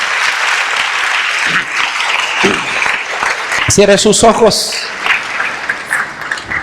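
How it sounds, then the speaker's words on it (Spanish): A church congregation at an evening worship service claps as a steady wash of applause, with a voice speaking over it partway through and a brief musical swell near the middle. "Dele palmas al Señor esta noche, hermano."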